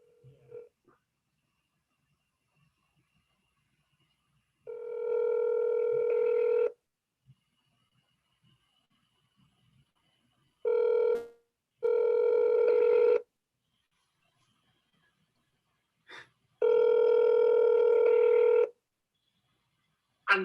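An outgoing telephone call: brief dialing blips, then several long, evenly spaced electronic ringback tones sounding alone in a quiet room.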